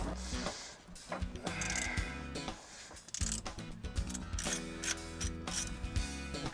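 A hand ratchet clicks steadily in quick bursts while loosening the manual transmission fill plug on a Jeep Wrangler, close up and clear with no talking over it.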